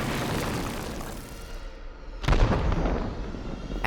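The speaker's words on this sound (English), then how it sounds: "More and more rockets soared through the air and destroyed the city." Animated rockets launch and explode over a micro LEGO city, making a rumbling, roaring barrage that swells into a loud boom partway through, then a continued heavy rumble.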